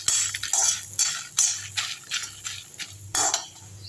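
Red chillies and roasted gram dry-roast in a pan for idli podi, a metal spoon scraping and clattering against the pan in quick repeated strokes over a low steady hum.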